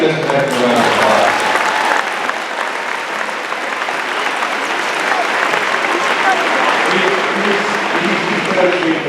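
A crowd at a jersey retirement ceremony gives a round of applause for a coach, steady loud clapping lasting several seconds with some voices mixed in.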